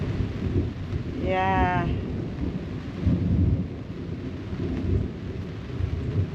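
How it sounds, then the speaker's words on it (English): Thunder from an approaching thunderstorm rolls as low rumbles under steady rain, swelling twice, with a brief tonal whistle early and one short spoken word. "Don't know if you can hear that thunder. It's definitely getting closer."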